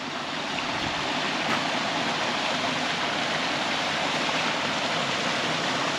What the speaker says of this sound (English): There's a little babbling. A little babbling brook.